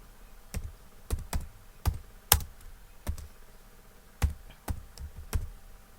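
Keystrokes on a computer keyboard while entering text into a résumé in MS Word 2019, sparse sharp clicks in uneven bursts with short pauses, close and fairly quiet, no voices.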